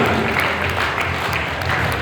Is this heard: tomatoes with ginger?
no